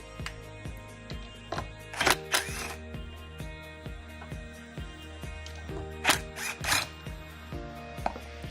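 Screws being backed out of a Kirby vacuum pivot with a bit driver: a rhythmic run of close, small ratcheting clicks and taps, with a few louder clattering bursts as parts or screws are handled.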